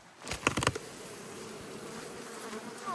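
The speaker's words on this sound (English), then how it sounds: "So there's quite a lot of bees in there, so it's great." Honeybees buzzing in a hive box in March, a steady close hum with a few sharp knocks or taps near the start and no talking.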